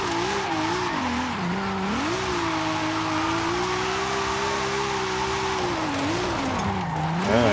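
A car drifting at full throttle in the racing game Forza Horizon 5, its engine droning loud and steady with the pitch rising and falling as the revs shift, heard alone without talk.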